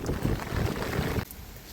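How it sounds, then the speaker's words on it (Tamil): Strong wind roaring through heavy rain, a loud close rushing gust that holds steady for just over a second before dropping away abruptly. "நல்லா காற்று செம்ம காற்று அடிக்குது"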